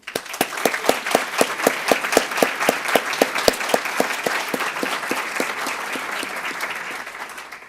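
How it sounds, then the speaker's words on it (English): Audience at a HOSA closing session applauding a special guest, a broad wash of clapping with a clear rhythmic beat of unison claps pulsing through it that gradually softens toward the end. "please give a big round of applause to Captain Robert Sasato for joining us today."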